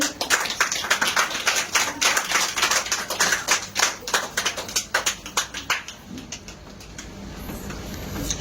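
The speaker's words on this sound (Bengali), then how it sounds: "সবাই হাততালি দিতে থাকো" An audience at a ceremony for a star diamond rank award claps steadily, a dense patter of many hands that thins into separate claps toward the end, loud and close, with no talking over it.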